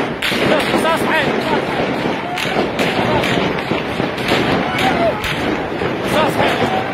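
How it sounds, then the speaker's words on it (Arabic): Rapid sharp cracks of live gunfire ring out repeatedly amid a noisy crowd with shouting voices throughout, at night during a power cut in Tahrir Square, Baghdad. "شوف رصاص حي،"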